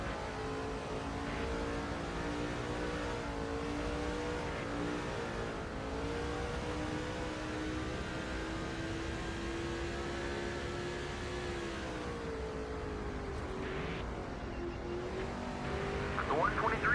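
Race car engines from NASCAR 06 at the Subway Fresh 500 drone steadily with shifting pitch as cars run and pass high on the track, a continuous loud roar throughout with a spotter voice occasionally over it.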